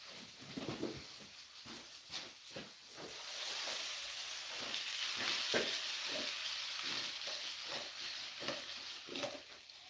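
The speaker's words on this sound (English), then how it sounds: "Oh, you hear him sizzling?" Food sizzles and crackles steadily in a hot pan, with a hissing wash broken by repeated soft knocks and scrapes of stirring.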